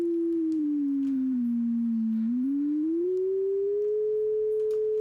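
A pure sine oscillator tone near 440 Hz holds steady alone, sliding slightly down in pitch and then back up as the frequency is adjusted, clean and continuous with no other sound.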